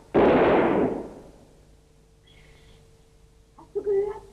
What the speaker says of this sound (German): Moment, ich feuere einen Schuss ab.